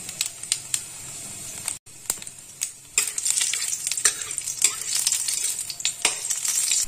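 Nigella seeds temper in hot oil in a pan, a steady crackling sizzle with scattered pops and a few clinks of a spoon stirring, close up with no talking.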